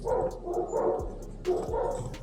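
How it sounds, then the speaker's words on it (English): Several neighborhood dogs bark repeatedly in an outdoor yard, a run of loud, overlapping woofs and yips in bursts with short gaps between. "my neighbor lets his dogs out, and they're acting like crazies"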